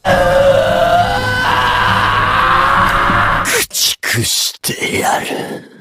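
Eren, an anime character in Attack on Titan, lets out a loud, sustained scream at full force. It breaks off into a few choppy, strained bursts near the end.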